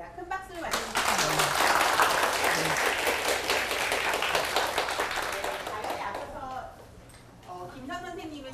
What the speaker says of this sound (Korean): 큰 박수로 맞으십시오.